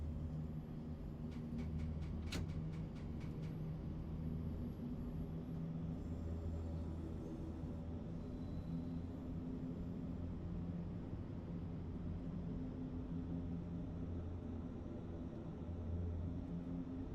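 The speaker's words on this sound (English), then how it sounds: "I realised it's a plane outside." An airplane passes overhead outdoors, a steady broad rumble and roar that holds throughout at a moderate level, with faint clicking ticks early on.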